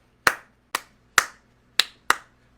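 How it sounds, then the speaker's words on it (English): Five sharp, bright hand claps spell out a Latin clave rhythm, spaced unevenly with crisp attacks and quick decays, close and alone against a quiet background. "That's bad clapping."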